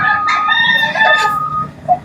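Chickens cluck and squawk nearby in loud, overlapping calls, with a rooster-like crowing note among them, running steadily throughout without speech.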